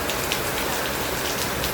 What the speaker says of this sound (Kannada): ಫುಲ್ಲು ಜೋರು ಮಳೆ